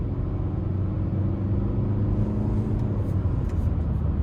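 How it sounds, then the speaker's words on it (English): Inside a 2026 Nissan Altima 2.5 SR Midnight Edition driving on the road, a steady low cabin rumble of engine and road noise, even and moderate throughout with no voices. "So starting the test drive in this Altima here"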